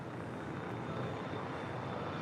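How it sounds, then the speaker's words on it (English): A brand-new Delta Air Lines Airbus A330neo, Flight 7 bound for Tokyo Haneda, at LAX makes a steady, moderately loud jet engine roar with a thin high whine running through it, with no voices. "This is Delta Airlines Flight 7 heading to Tokyo Haneda. This A330 Neo, brand new, just delivered in November of last year."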